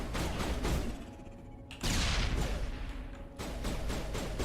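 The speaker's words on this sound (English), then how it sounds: "Press G to throw a grenade, press it again to detonate it." Grenade blasts in a Mass Effect-style shooter game, a loud broadband burst hitting near the middle and another booming hit later, amid continuous rumbling gunfire and explosions.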